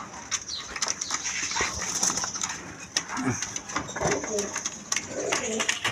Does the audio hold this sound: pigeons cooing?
yes